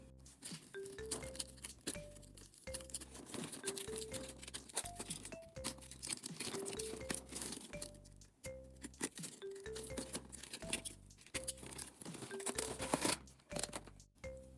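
Littlest Pet Shop mini blind bag packaging being opened up close, with crinkling plastic, tearing and small clinks. Music plays steadily throughout with no talking.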